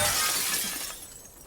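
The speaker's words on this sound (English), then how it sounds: "I did not know we could smash glass to get loot." Glass smashing in The Last of Us Part II, a single bright shattering crash followed by tinkling shards that fade quickly, close and alone.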